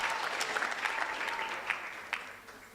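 Audience at a Polokwane breakfast welcoming Miss South Africa 2022 claps for performers taking the stage, a lively, continuous round of applause with a few louder individual claps, gradually tapering off.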